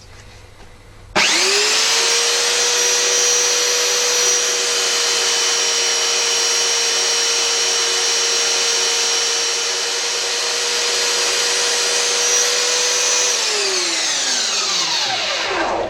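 A common garden belt sander mounted upside down smooths blackened, hardened knife blades. The motor starts abruptly, holds one loud steady whine with continuous abrasive hiss for about twelve seconds, then winds down as it is switched off.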